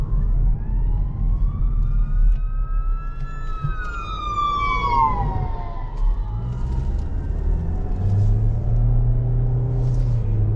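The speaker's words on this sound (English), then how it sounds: "I have an emergency vehicle coming up, and I need to give them some space." An emergency vehicle siren wails from inside a 2024 Kia Seltos S AWD as it pulls over, the rising and falling tone sweeping past and fading under a low road rumble.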